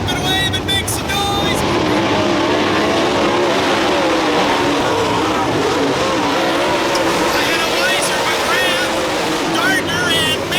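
Race cars run a parade lap at a track, their engines droning and revving steadily up close, while a crowd and an announcer's voice carry over the constant motor roar.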